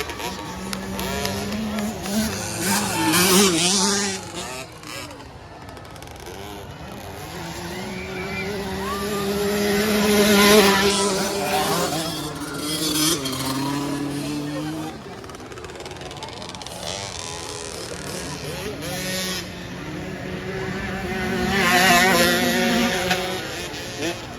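Small 50cc motorcycles in a junior class race final buzz past with rising and falling engine whines and repeated passes, while a crowd and a commentator talk loudly over them throughout.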